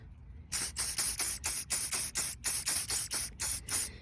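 An aerosol can sprays clear coat onto a hanging homemade wind chime in a series of about a dozen short, rhythmic hissing bursts, close and fairly loud, separated by brief pauses.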